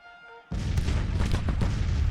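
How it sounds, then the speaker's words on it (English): Civil War cannon fire in the strategy game Grand Tactician: The Civil War, firing on an enemy brigade in a tree line. Quiet ambience gives way to a sudden loud, sustained roll of booming artillery volleys. "just let the artillery just pound away upon the enemy brigade hiding in the tree line over there"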